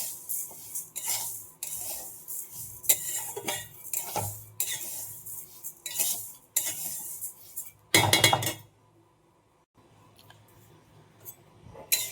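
Parboiled rice and lentils being rinsed in a pot: irregular swishing bursts of water with clinks of grains and metal. A louder splash comes near the end, then near silence before one last rustle.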